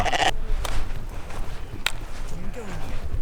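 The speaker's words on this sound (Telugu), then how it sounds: "ఇక్కడ మనకు గొర్రెలకి బొచ్చు పీకుతారు చూడండి" Sheep bleat near a flock being sheared for wool in a village along a Kashmir trek, several short calls over talking and some shuffling footsteps.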